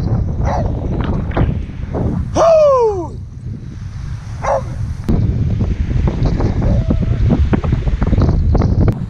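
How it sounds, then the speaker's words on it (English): A strong, cold easterly wind blasts across an open beach, roaring loudly and continuously into the microphone with deep buffeting rumble, while brief whistling and squealing tones cut through now and then. "Wind's blowing an absolute strong easterly wind, very cold, you don't want it in your face."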